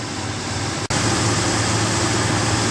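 A Dodge truck's Slant 6 engine idles steadily with a smooth low drone, hydraulic lifters keeping it free of ticking or tapping, interrupted by a split-second dropout.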